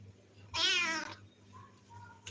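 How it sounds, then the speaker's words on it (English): A complaining cat lets out one long, loud, drawn-out meow close by, followed by quieter room sounds. "A complaining cat."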